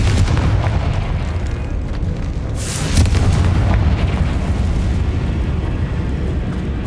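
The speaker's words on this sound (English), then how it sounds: "Confringo." A Confringo spell explosion goes off in the video game Hogwarts Legacy: a loud, dense burst with a sharp crack near three seconds, over continuous heavy game rumble throughout.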